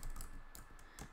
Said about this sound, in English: I am currently typing it.